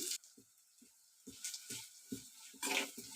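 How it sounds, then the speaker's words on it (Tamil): Onions sautéing in a pan for crab gravy give a quiet sizzle, broken by a rhythm of short spatula scrapes and stirring knocks, with a louder flare of sizzling near the end. "நல்லா வெங்காயம் வதங்கி வருது பாருங்கள்"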